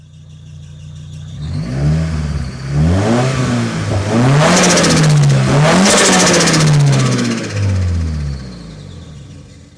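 A Nissan S14 240SX engine revs repeatedly in a McDonald's drive-thru, loud rising and falling pulls that climb higher in the middle before easing back toward idle.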